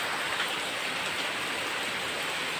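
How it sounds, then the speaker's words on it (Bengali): Heavy rain pours down steadily, a dense continuous hiss of drops drumming on surfaces with no other sounds. "প্রতিটা অঞ্চলেই কিন্তু এভাবে বৃষ্টি নেমে পানিবন্দি"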